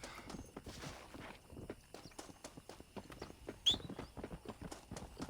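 Horse hooves clip-clop in a video game, a steady walking rhythm of soft, fairly close hoofbeats with a brief higher cue near the end and no talking over it.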